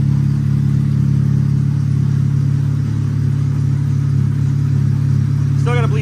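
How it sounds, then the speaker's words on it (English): A Chevy car engine idling just after start-up with a new motor fitted, a loud, steady low drone that runs unbroken throughout, with a brief voice near the end. "Start her up, but you can already hear it going away."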